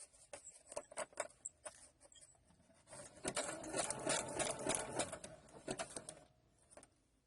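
A sewing machine stitches a small piece of ribbon down over the ripped edge of a junk journal page, starting with short intermittent bursts and then running in a steady, fairly quiet run before stopping, with no talking.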